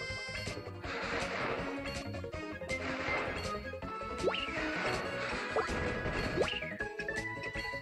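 Dynamite blasts in the video game Kirby: Triple Deluxe: a series of smashing, crashing bursts mixed with rising chirpy game effects over continuous background music, moderately quiet throughout.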